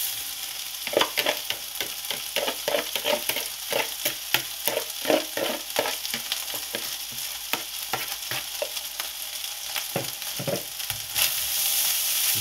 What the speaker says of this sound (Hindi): साथ ही इसको मैं खूब तरीके से मिक्स कर दूंगा।